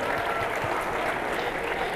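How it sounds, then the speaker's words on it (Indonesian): An audience claps steadily at a live talk event, a dense wash of applause heard from a moderate distance, with a voice faintly present beneath it. "Tepuk tangan dulu dong buat kita semua."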